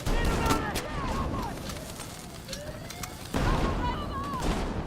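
Gunfire in the shooter Battlefield 6 with a grenade launcher in play, sharp repeated shots and bursts over a noisy battlefield, with a sudden louder blast near the end.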